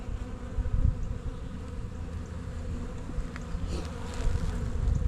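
Honey bees buzzing steadily around a hive frame holding brown honey, a dense continuous drone close to the listener with no talking.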